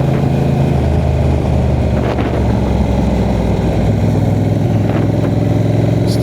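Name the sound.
motorcycle decelerating at the end of third gear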